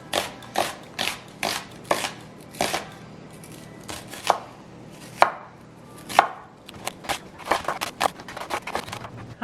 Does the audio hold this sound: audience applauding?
no